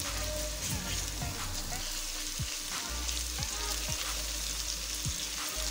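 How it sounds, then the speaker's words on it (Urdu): Garlic-ginger paste sizzles and fries steadily in a pan, with occasional stirring scrapes, a continuous close crackle and no talk. "اسے بھی اس کے اندر فرائی کر لیں گے۔"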